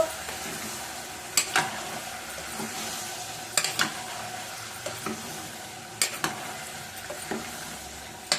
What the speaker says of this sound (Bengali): এবার কুচি করে কাটা টমেটোগুলো আমি এখানে ছোট্ট সাইজের চারটে টমেটো নিয়েছি এটার মধ্যে দিয়ে দিলাম আবার সেই আস্তে আস্তে নাড়তে থাকবো